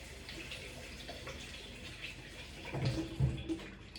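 Tap water runs steadily over a peeled sweet potato at a kitchen sink, a low continuous rush with a few louder splashy moments near the end as the potato is turned under the stream.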